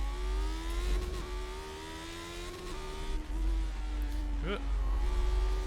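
Non-turbo Lotus 79 racing car in iRacing, its engine droning and revving with a few short crackling pops and bangs on lift-off scattered across the run, close and fairly loud.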